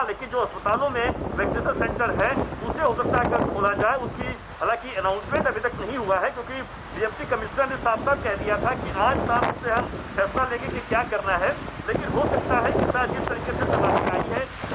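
Strong cyclone winds from Cyclone Tauktae roar and buffet the microphone continuously beneath a reporter speaking in Hindi, with steady loud gusting noise throughout.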